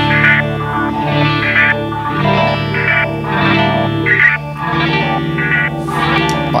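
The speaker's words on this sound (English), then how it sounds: "this is sort of my seek filter patch. So let's listen to that." Distorted electric guitar chords pass through a Zoom MS-50G seek filter patch that gives each strum a pulsing, wah-like chorus tone, loud and sustained.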